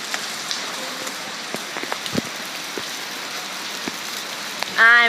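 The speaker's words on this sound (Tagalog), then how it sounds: "I'm walking in the rain" Steady rain patters on the ground outdoors while people walk through it, with scattered drops ticking nearby and a brief voice surfacing near the end.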